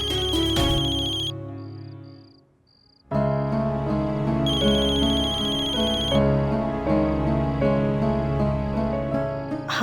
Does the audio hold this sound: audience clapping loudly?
no